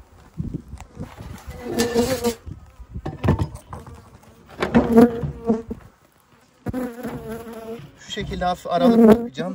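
Honey bees buzzing around an open hive during a spring colony split, a steady insect drone running beneath a voice talking throughout, with brief pauses in the speech.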